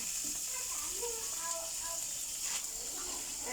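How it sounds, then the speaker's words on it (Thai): Fresh shrimp stir-frying in a pan with roasted chili paste, giving a continuous close hiss and sizzle with soft stirring, and a voice speaking briefly over it. "เราเอากุ้งใส่ผัดให้มันสุกก่อน"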